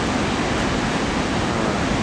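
A huge waterfall in Yellowstone roars in a steady, dense, unbroken rush of white noise that fills the space evenly from start to finish, with no voices.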